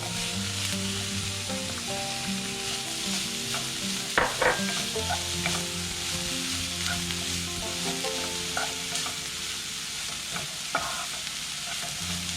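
Tomato sautéing for a Kerala coconut shrimp stir fry (thoran) sizzles steadily in a pan, with occasional stirring scrapes and clinks; no voices.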